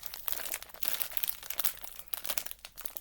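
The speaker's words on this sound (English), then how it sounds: "To get the packet open, that's not going to do." A plastic wrapper on a packet of Fox's Crunch Creams double chocolate biscuits crinkles and crackles in irregular close bursts as it is worked open, with no speech.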